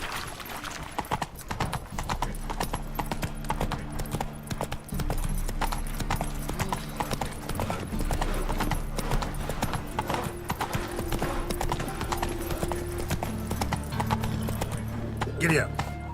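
Steady clip-clop of horse hooves from a galloping mount in The Witcher 3: Wild Hunt, a continuous rhythmic trot under game music with a horse whinny and someone talking over it.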